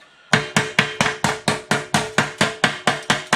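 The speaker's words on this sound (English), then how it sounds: "Derek's just doing some hammering just to straighten it out a bit." Solid brass held in C-clamps and welding clamps is struck with a hammer to straighten it during quarter panel fabrication on a 1969 Plymouth Fury; about fourteen sharp, ringing metallic blows land in a steady, fast rhythm, loud and close, with no talking.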